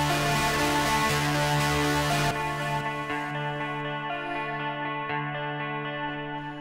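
Sustained electric guitar chords with a thick, gritty distorted tone that ring out and slowly fade, with no voices.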